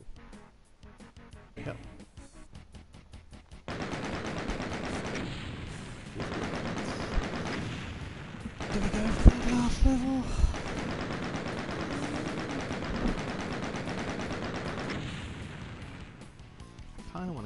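Rapid automatic fire from the chain gun in the 1993 game Doom, level Knee Deep in the Dead, with sustained bursts of gunfire and occasional explosions, fairly loud and continuous, under a brief stretch of talk.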